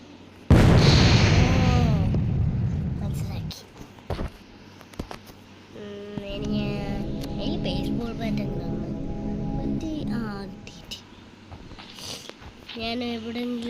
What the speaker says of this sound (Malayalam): അതെങ്ങനെ പൊട്ടിക്കാൻ നോക്കട്ടെ. എക്സ്പ്ലോഷൻ